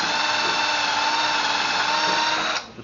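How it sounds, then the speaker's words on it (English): A power drill whines steadily at high speed while boring out the hinge hole in a Claymore prop replica, loud and close, then spins down abruptly just before the end. "I drill out the hole for the hinge in the"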